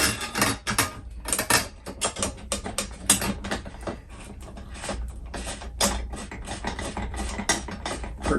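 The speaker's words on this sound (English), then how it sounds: "And then we'll start the second rear bolt." Ratcheting clicks as a bolt is threaded in while mounting a rooftop RV air conditioner upgrade on a Grand Design Solitude 382WB-R, a steady run of close, rapid mechanical clicks with short pauses.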